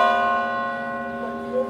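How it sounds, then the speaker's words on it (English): A bell rung at the Macy's Flower Show in Herald Square, Manhattan, sounds as a sustained ringing tone with rich steady overtones, fairly close and clear, lasting throughout with a slight swell near the end. "He's ringing the bell."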